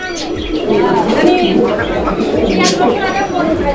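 Several German tiger beauty homer pigeons coo in soft, throaty bursts, close by amid a busy, noisy background, with people talking over them.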